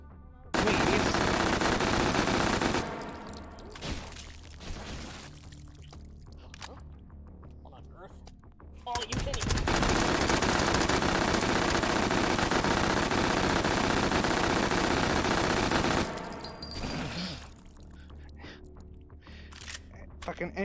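Sustained rapid automatic fire from an MP5K submachine gun with a drum magazine in a shooter video game, loud dense bursts in two long stretches separated by quieter gaps, with a voice talking over parts of it.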